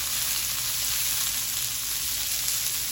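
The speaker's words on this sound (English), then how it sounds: "now just go ahead and add in the onion" Onion sizzles in hot oil in a pan for Mongolian beef, producing a steady, close, broadband hiss that holds evenly throughout with no voices over it.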